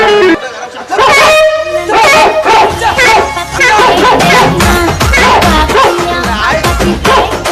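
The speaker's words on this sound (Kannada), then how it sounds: "ನಾಯಿ ಕಚ್ಚಲಾಗ ಬರ್ತೈತಿ" A dog barks repeatedly nearby during a village stage play, sharp yaps and whines mixed with people talking and shouting.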